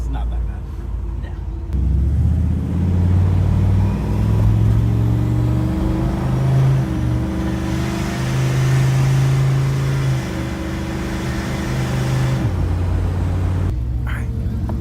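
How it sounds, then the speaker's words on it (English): A 600 hp turbocharged 6.0 LS engine in a 1964 C10 Suburban pulls hard from inside the cabin, its drone climbing and shifting for about ten seconds before easing off, with the wastegate loud over the engine. "the wastegate on this thing, but it is so loud"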